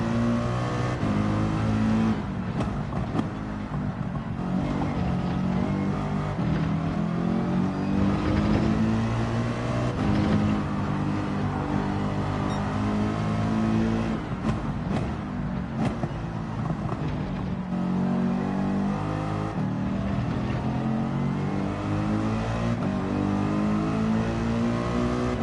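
Group 3 AMG 2020 race car in Gran Turismo 7 roars steadily throughout, its engine note climbing and dropping through repeated revs and gear changes, loud and close with no talk over it.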